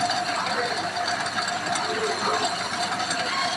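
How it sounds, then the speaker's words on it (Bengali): Peeling machine processing cut material for bags, a continuous dense mechanical clatter and hum with a steady tone, close and fairly loud, running without pause. "এইগুলো মেশিন, ছেলা মেশিন। দেখুন কীভাবে ছিলছে দেখুন।"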